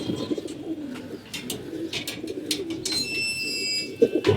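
Pet pigeons cooing at close range, soft low repeated coos in an uneven rhythm, with occasional sharper chirps and rustles and a faint high tone near the end; no talking.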